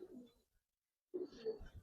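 Pigeons in an Old Dhaka loft, Giribaz pigeons kept for breeding, give soft low cooing in two short bursts separated by a silent gap, fairly faint and close.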